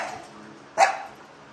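A dog barks once outdoors, a single short, fairly loud bark rising over a low, steady background hum.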